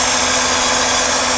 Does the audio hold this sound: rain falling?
no